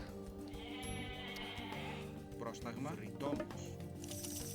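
Age of Mythology game audio with several short goat bleats over a busy layered soundtrack and effects, fairly quiet in the mix.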